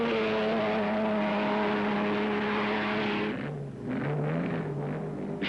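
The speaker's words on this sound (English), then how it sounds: "Italian driver Mario Boniggia is on hand with a Ferrari to give it a whirl." A 1957 Ferrari race car driven by Italian driver Mario Boniggia roars steadily at close range, its engine note holding loud and constant before dipping briefly and rising again.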